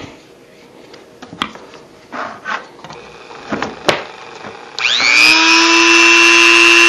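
Dremel rotary tool spinning up to a steady high-pitched whine after a few seconds of clinks and handling noises, loud and close, used on an antique curry comb for horse grooming.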